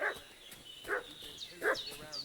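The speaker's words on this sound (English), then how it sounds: "What's that dog making such a fuss about?" Dog barking in the medieval village world of Kingdom Come Deliverance 2, with three or four sharp, well-spaced barks over a steady ambient game background, moderately near and loud.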